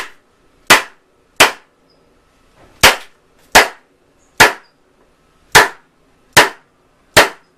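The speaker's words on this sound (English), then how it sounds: "Now I'm going to staple the entire short end down." A staple gun drives staples through canvas into a wooden stretcher frame, eight sharp loud snaps at uneven intervals with silence between.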